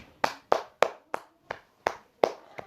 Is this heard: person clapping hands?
yes